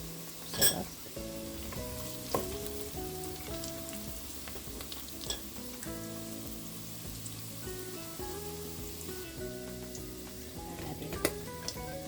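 Sauteed vegetables with ground beef sizzle in a frying pan while a utensil stirs and scrapes them, giving a steady close frying hiss broken by clinks and knocks.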